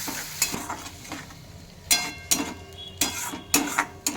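Tomato is added to spinach paneer frying in a pan and stirred, giving a steady soft sizzle broken by several sharp scraping strokes of the spoon against the pan.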